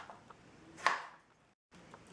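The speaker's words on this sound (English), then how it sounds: "Let's chop the tomato." A knife chops a tomato: one soft thud of the blade landing on the board, set against a quiet room hush.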